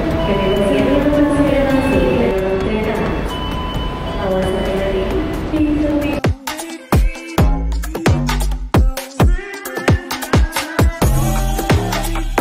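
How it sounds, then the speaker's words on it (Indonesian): An airport train pulls out of Yogyakarta railway station, starting with a loud low rumble and motor whine, then breaking into a run of sharp clanks and clicks as the cars roll past the platform. "kereta api bandara ini berangkat."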